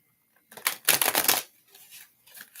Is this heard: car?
no